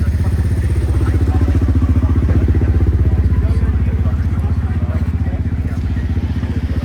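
A big modified tractor-pulling engine holds a deep, loud, fast-pulsing throb at steady revs, a rough low rumble that eases only slightly toward the end.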